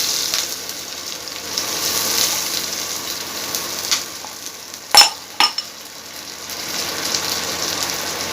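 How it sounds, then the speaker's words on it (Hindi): Dried red chillies and garlic fry in hot tempering oil, giving a steady soft sizzle throughout, with two sharp clattering stirs or pops near the middle and no voices. "आज सब शुखला कंचा लंका आ रसुण को पकईदेवी"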